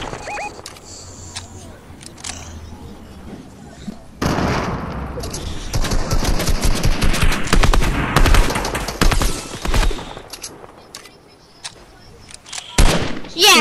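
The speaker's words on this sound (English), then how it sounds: "I'm spraying my minigun." Minigun spraying in a multiplayer shooter video game, long dense bursts of rapid-fire gunfire that swell loud and rattle continuously for several seconds, with shorter bursts and distant shots around them and voices underneath.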